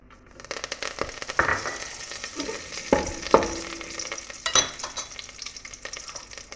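Cloves, cardamom and curry leaves fry in hot oil for a mutton pepper gravy: a continuous crackling sizzle with a few sharp pops and spoon scrapes at irregular moments, close and moderately loud, with no talking.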